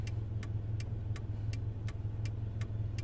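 A Budget moving truck hums with a steady low idle, overlaid by a regular, quick ticking that repeats evenly about three times a second.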